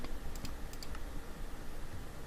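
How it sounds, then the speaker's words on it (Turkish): A computer mouse clicks during a PC strategy game, a few sharp, quick clicks in the first second over a steady low background hum. "Arada da basıyorum tık tık diye sesler geliyor zaten fare sesleri."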